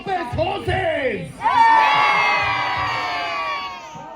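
Crowd at a historical reenactment staged as the Wars of the Roses between Lancaster and York erupts into loud, sustained cheering and shouting, rising sharply after a brief rumble of mixed voices.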